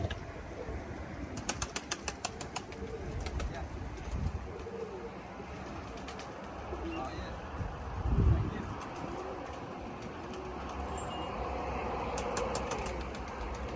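Young pigeons in a loft coo softly and flap about, with a burst of wing claps early on and a low thump midway, while quiet background talk and a distant engine hum underneath.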